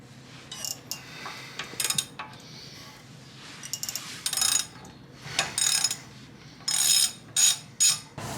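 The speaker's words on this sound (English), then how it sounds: "So the first bolt I'm going to break is the main one that holds the drive shaft in." Ratcheting wrench breaking loose the 27mm drive shaft bolt on an Audi A3 Quattro, heard as repeated short bursts of metallic clicking with pauses between pulls, fairly close.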